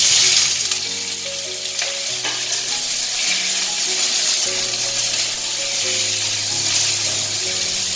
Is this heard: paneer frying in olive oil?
yes